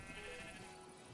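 Sheep bleating in the survival video game Ocean Survival, a faint, short wavering bleat heard quietly amid soft background noise, with no talking.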